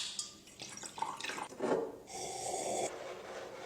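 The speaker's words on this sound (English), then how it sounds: "and then he washes his mouth, not with tap water, but with bottled water" Mouth rinsing with bottled water: close, soft swishing and gurgling with a sputtering spit and a trickle of water, fairly quiet with no talking.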